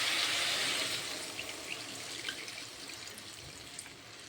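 Water is poured into a pan of thickened vegetable curry, a close splashing gush that eases into a quieter bubbling trickle.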